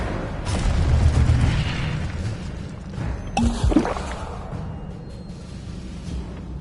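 An Incendio fire spell cast in a Hogwarts wizarding game, a rushing burst that swells and fades, then a sharper crackling flare and boom a couple of seconds later, with faint ambience between.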